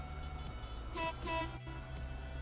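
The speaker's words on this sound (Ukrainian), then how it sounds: "Нормальний такий гудок цього кіровця." A Kirovets tractor horn in Farming Simulator 19 gives two short, loud toots, each a bright tonal honk, over steady engine hum.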